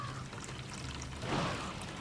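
Water drains out in the Metel Horror Chapter 3 game, a short, steady pouring gush that swells near the end, moderately loud, with no voices over it.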